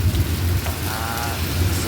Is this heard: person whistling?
no